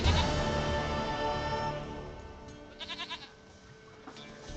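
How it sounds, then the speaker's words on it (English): A goat bleats in The Witcher 3, its wavering cries standing out over a dense bed of game music, with a short run of pulsing bleats near the end. "Goat of mine, dearest, sweetest goat."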